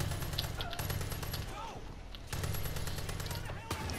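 Rapid bursts of automatic gunfire fill a Far Cry 5 firefight, loud and nearly continuous, with a brief lull midway before the shooting resumes.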